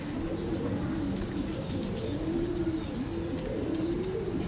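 Rampuri pigeons with silver eyes, a female among them, coo repeatedly up close in low, rolling, throaty phrases that swell and fade in a steady rhythm over soft background noise.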